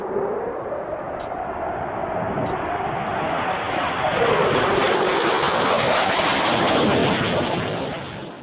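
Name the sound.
F-15 fighter jet making a low pass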